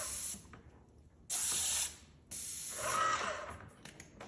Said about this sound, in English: I'm going to pull the trigger, relieving all pressure out of the paint sprayer.